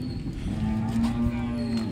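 At a cattle market, a cow lets out a single sustained low moo nearby, loud and unbroken over quiet ambient noise.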